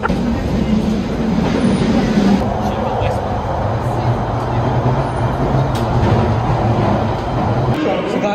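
Steady rumble of a train running on rails, a London commuter service heading toward Liverpool Street, heard from inside a carriage as continuous low roar with faint rattles, while people talk over it.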